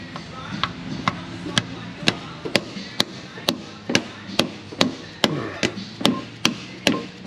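Dead blow hammer repeatedly striking a Ford truck part, about sixteen sharp, evenly paced impacts close up over a low steady background hum.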